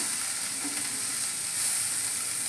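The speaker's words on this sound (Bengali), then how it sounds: "ধনেপাতাটা দিয়ে একটু নাড়িয়ে চাড়িয়ে" Chopped coriander being stirred into frying onion and garlic in a pan while cooking butter pointed gourd, a steady close sizzle with light scraping of the spoon, rising slightly near the end.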